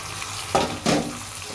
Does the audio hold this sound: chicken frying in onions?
yes